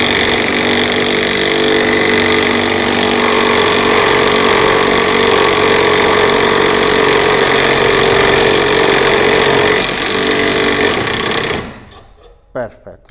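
A Ribimex 18V cordless impact wrench drives an M8 bolt into 2 mm steel box section, a loud continuous rattling hammer of impacts lasting about eleven seconds before cutting off abruptly, followed by brief handling knocks.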